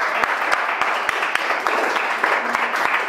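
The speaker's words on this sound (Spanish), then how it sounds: "un fuerte aplauso por favor" An audience at a talk applauds, a dense, even wash of clapping with a few sharper claps standing out, fairly close and continuous throughout.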